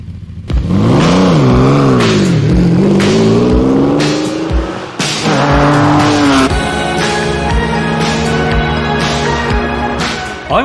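A Lamborghini Countach LP400S roars as its engine revs hard and drives, the loud pitch rising and falling through gear changes with a brief tire squeal and a close, sustained growl.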